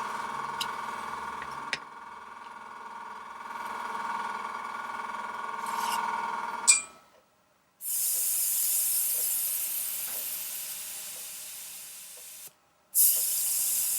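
An Iwata HP-CS Eclipse airbrush with its nozzle guard off sprays paint onto cardboard, a steady close airy hiss that cuts out briefly and resumes, following a quieter hum.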